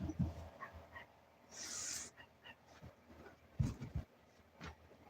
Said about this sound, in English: Now the dogs are freaking out